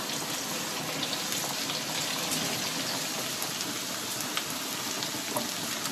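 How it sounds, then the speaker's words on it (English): Sliced onions, shallots and ginger sautéing in a hot pan, a steady close sizzle with scattered small crackles and pops throughout. "So we're gonna saute these until they're nice and lightly caramelized."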